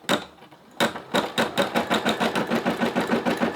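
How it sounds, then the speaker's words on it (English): A Brother SE600 embroidery machine starts after a couple of sharp clicks, then stitches in a fast, even mechanical chatter of regular thumps, close and alone. "And just like that, we're embroidering again."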